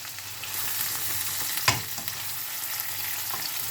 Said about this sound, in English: I'm just going to keep stirring